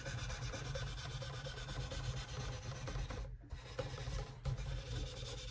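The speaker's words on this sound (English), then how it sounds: "a little steel wool to clean up any of the gunk or skin cells or anything nasty that could be on the fingerboard" Steel wool rubs back and forth along a mandolin fingerboard, a close, quiet, steady scratchy friction with a short pause partway through and no speech.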